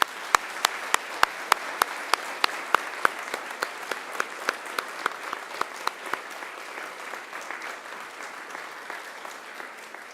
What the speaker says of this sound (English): Please now give them a mighty round of applause.